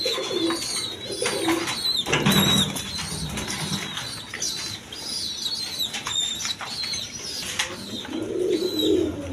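Pigeons coo repeatedly close by, soft throaty calls rolling over one another, with occasional wing flaps and chirps in the background.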